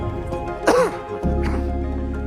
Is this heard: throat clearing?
yes